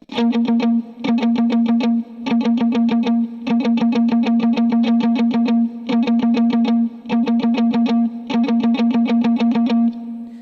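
A dry electric guitar with no delay plays a percussive verse part for a lead line, a rhythmic chug of short muted strums in tight repeating bursts, loud and close, with no voices.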